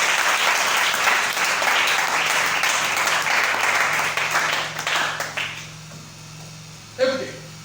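A church congregation applauds loudly and steadily for about five seconds, the clapping then thinning out and fading, followed by a brief sharp sound near the end.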